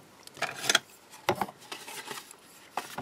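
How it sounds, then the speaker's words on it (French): Scissors snip paper while a small gift box is being cut out, a few quiet crisp cuts close by in an uneven rhythm with pauses between them. "Et ensuite, je vais enlever avec mes ciseaux"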